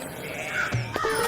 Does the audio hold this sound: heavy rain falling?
no